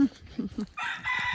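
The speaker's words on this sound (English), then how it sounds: "Oh, the mean rooster." A farm rooster crows once, fairly close and loud, its drawn-out cry rising right after a person says a brief word.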